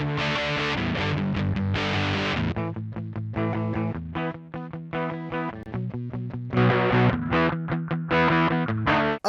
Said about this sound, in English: This is based on a vintage distortion pedal